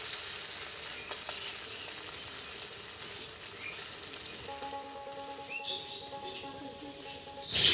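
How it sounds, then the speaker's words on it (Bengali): Pieces of raw papaya dhoka frying in hot white oil in a kadai, giving a steady bright sizzle throughout with a faint whistle-like tone partway and a louder clatter at the end. "তেলটা গরম হয়ে গেছে, এবারে শেপগুলো ভেজে নিচ্ছি।"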